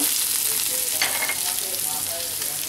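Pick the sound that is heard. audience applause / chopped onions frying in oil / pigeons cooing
chopped onions frying in oil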